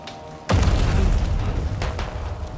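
A loud sudden boom opens the scene of a war zone in Death Stranding 2, followed by a rumbling sustained roar and a second burst, like fireworks.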